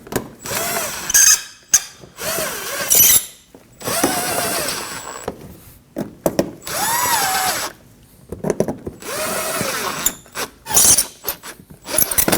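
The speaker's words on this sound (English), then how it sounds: "We can install the screws into the front side of the fender." A power drill drives screws into the front of the fender liner on a 2015-2024 Ford Edge, with repeated short whirring bursts separated by pauses and ratcheting clicks, close and clear.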